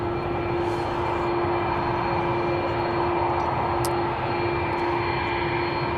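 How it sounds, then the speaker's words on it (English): Older, loud jet airliner engines roar at Seattle-Tacoma airport, a steady close, powerful drone with a sustained tonal hum that runs unbroken throughout with no talking. "You can tell those are not the next generation engines because they are loud."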